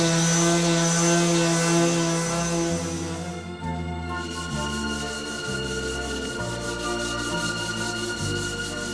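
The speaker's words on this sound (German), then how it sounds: "Schleifen, schleifen." Lacquered wooden boards being sanded for a small wooden dinghy, a continuous loud machine-like hum with shifting tones and rubbing scrape, no speech.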